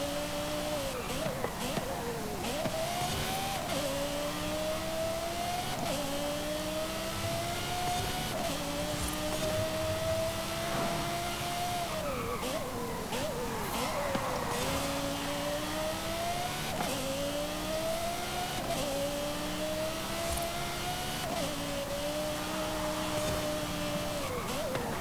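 A Lamborghini with all-wheel drive in Forza Horizon 5 revs hard through repeated rising gear pulls, its engine note climbing and dropping at each shift, steady and loud with a voice talking over it.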